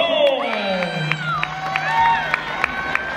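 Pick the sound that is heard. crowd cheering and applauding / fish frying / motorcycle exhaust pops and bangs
crowd cheering and applauding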